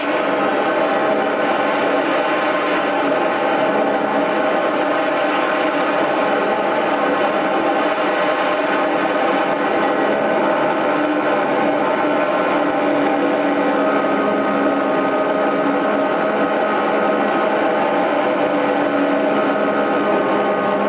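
A control-line stunt model plane's small engine heard from an on-board camera, a loud, steady high-pitched buzzing drone that holds continuously throughout with little change in level.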